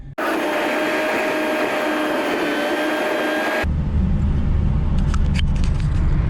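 A car engine roars steadily under throttle for several seconds, then drops abruptly into a lower, rumbling tone as the driver comes off the gas, loud and close throughout.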